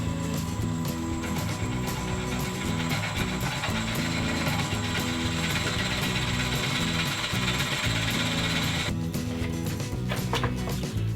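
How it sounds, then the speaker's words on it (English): Drill boring a 12mm hole into the top of a wood-turned pendant, a steady mechanical whir with a rattling, ratchet-like chatter that runs continuously and loud, then the tone changes near the end. "I'm going to drill a 12mm hole, about half an inch I think, 12mm hole at the top here"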